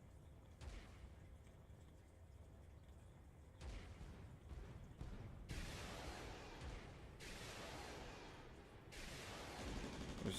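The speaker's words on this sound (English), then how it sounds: "there's the sound of that heavy torpedo going off" A heavy torpedo in Space Engineers goes off as deep rumbling bursts and roaring blasts, rising in waves and growing louder and denser toward the end.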